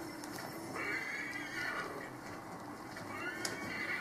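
A horse neighs in the video game Assassin's Creed 3, giving a clear whinny over a steady bed of game ambience and faint clip-clop of hooves, fairly close and moderately loud.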